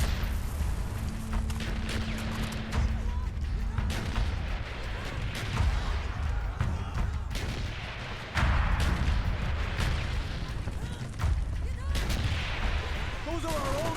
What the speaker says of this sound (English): Those are our own mortars!